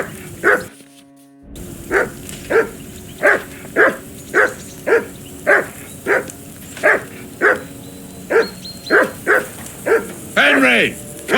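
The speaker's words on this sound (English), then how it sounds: "Henry, call that dog to heel." Repeated close barking from a dog in Kingdom Come: Deliverance II, a steady run of about fifteen sharp barks after a brief silent gap, loud and insistent, ending in a longer whining yelp.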